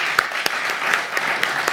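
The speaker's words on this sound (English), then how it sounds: "Let's give them a round of applause." An audience at a university academic freedom forum applauds the panelists, a brief burst of dense, even clapping from a crowd in a hall.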